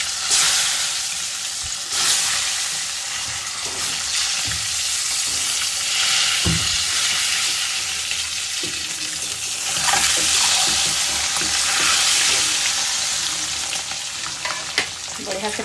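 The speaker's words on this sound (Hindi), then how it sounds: "बढ़िया से फ्राई करमा सुंदर भी कलर आसी" Eggs frying in a hot pan while being stirred, a loud continuous sizzle close up, broken by repeated spatula scrapes and knocks against the pan.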